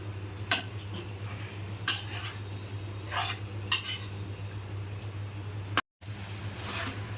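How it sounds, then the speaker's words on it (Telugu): Spoon stirring potato curry in a pan, a few distinct scraping and clinking strokes at irregular intervals over a steady low hum, with one short sharp drop to silence near the end. "ఇలా కలుపుకుంటూ ఉండాలి కొంచెం కొంచెం"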